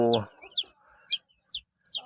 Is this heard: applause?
no